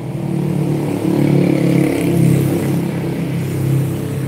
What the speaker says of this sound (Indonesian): Ini bunyinya kalau lepas gas ya